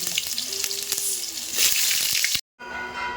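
Potatoes fry in a pan for a jackfruit and prawn curry made without onion or garlic. A steady, loud sizzle runs throughout, cuts out for a moment near the end, then resumes.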